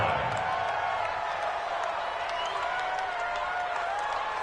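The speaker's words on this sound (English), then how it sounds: "That's why you hear that clapping on the sidelines, right?" A crowd on the sidelines of a PS4 football video game claps and murmurs in a steady, fairly soft wash of noise, with scattered individual claps standing out.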